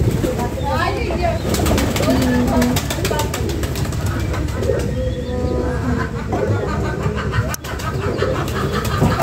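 A kept pigeon coos in soft, repeated low calls close by, mixed with other bird sounds and occasional talking in the background.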